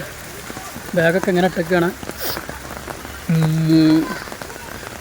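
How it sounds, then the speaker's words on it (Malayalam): Rain falls outdoors in Thiruvananthapuram as a constant wash of drops on surfaces, heard under a voice speaking in short phrases. "അപ്പോൾ ഗൈസ് മഴ പെയ്യുന്നുണ്ട്"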